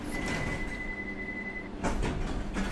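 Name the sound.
train doors closing, London Underground Simulator video game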